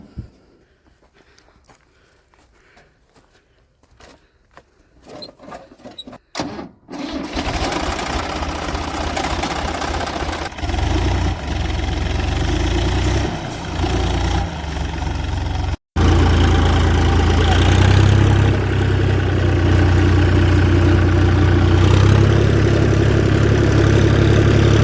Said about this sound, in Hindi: ट्रैक्टर पे चलने का अलग ही आनंद है दोस्तों।